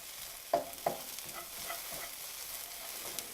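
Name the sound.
stirring frittata vegetables with oregano in a frying pan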